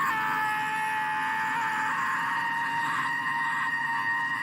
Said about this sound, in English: he's growing distressed and he's starting to scream